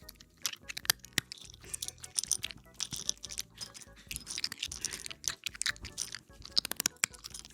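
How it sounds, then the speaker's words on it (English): A pet crunches dry food from a bowl right beside the microphone: close, loud, irregular crisp bites and chewing in quick bursts, with no talking. "I'll put the mic down right next to his food so you guys can get some more ASMR crunch."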